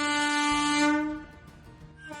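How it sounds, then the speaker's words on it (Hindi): Long train whistle blowing as a passenger train departs a station platform, a loud sustained harmonic blast that cuts off partway, followed by low rumbling and a brief second toot. "ट्रेन की लंबी सीटी बजी।"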